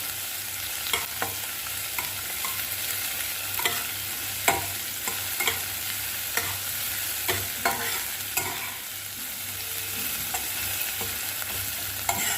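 Crushed garlic and green chillies fry in oil in a pan for banana stem ghonto, a steady soft sizzle with regular scrapes and taps of a spatula stirring throughout.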